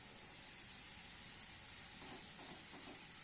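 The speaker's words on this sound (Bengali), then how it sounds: "মশলাটাকে ভালো করে কষিয়ে নেব" Spice paste for Bengali aloo dum frying steadily in a pan, a continuous bright hiss and sizzle with a faint clink near the end.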